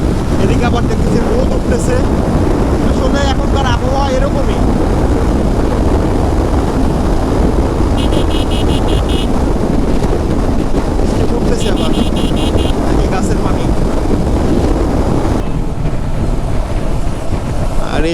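Strong wind buffets the microphone on a moving motorcycle in a steady, loud roar throughout, with a faint engine hum and scattered higher tones beneath.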